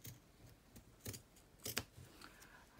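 Scissors snipping through bookbinding material for a hardcover straight-spine book, a handful of crisp separate cuts spaced unevenly, close and fairly quiet with no talking.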